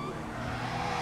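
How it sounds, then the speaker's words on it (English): Cars racing on the Sonora Freeway in Grand Theft Auto V roar past with steady engine drone and a hint of tire squeal, loud and continuous over a short moment. "We've got vehicles racing on Sonora Freeway."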